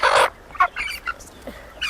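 Chickens on a poultry farm, close by, giving quick squawks and clucks in an uneven, busy flurry of short bursts.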